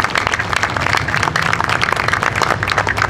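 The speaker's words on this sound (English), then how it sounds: "Let's give them a big round of applause." Sustained applause from a crowd at an El Sereno veterans honoring ceremony, dense steady clapping filling the space at full volume throughout.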